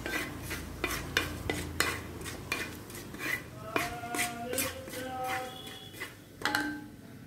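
Cumin seeds tempering in hot oil for Madras-style aviyal, with a faint sizzle under repeated close metallic clinks and scrapes of a spoon against a pan, irregular and continuing throughout.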